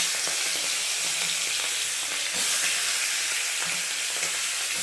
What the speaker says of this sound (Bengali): তাই আমি ইলিশ মাছের মাথাগুলো প্রথমে ভেজে নেব।